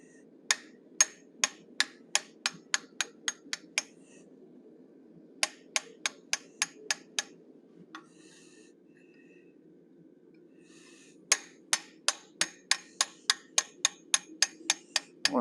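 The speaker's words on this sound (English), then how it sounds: "I'm going to open up the sockets for his eyes, and I'm using a teardrop shaped" A hammer strikes a teardrop-shaped bob punch into forged steel while eye sockets are opened on a cougar or lynx head. Sharp, ringing metallic blows land in three quick rhythmic bursts of roughly eight to ten hits each, with pauses between.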